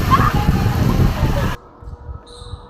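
Water splashes and sloshes in a water park swimming pool, close and fairly loud for a moment under excited voices, then drops away abruptly to a quieter muffled background.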